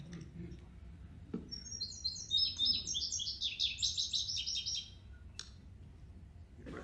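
A recorded bird song plays during a birding lecture, a rapid excitable burst of high chirping notes lasting a few seconds, with faint room noise and a few soft knocks around it.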